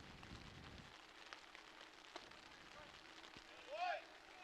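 Steady rain hisses softly across the field at a high school baseball game, a diffuse wash of patter with a few faint knocks and a brief whistle-like tone near the end.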